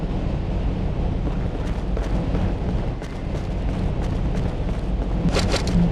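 A smoke grenade in the video game Conflict: Desert Storm 2 pours out a loud, steady rushing hiss with a low rumble that holds throughout, with sharper bursts near the end.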